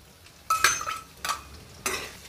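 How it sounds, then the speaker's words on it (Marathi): Two lengthwise-sliced onions get stirred in a pan for a peas and paneer pulao: three loud scraping strokes of a metal spoon against the pan over a faint sizzle, with no speech. "ते पण थोडं परतवून घेऊयात।"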